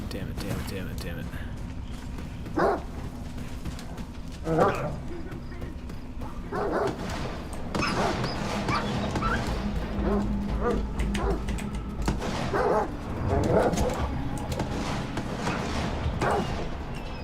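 Hostile dogs in the video game STALKER 2 yip, bark and whimper in repeated bursts over a steady low game soundscape, with someone talking throughout.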